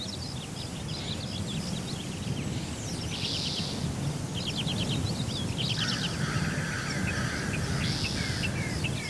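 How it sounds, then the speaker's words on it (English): Crows caw now and then as a randomly spawned environmental effect with binaural rendering, faint, scattered calls over a steady background hiss. "we should be able to hear crows every so often"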